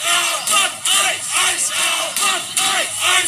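A large protest crowd in Minneapolis chants and shouts in loud, rhythmic bursts, massed voices rising and falling in repeated waves close by.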